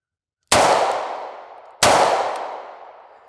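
Two sharp gunshots from a double-action-only Smith & Wesson 442 revolver, each a loud crack with a long ringing decay, about a second and a half apart.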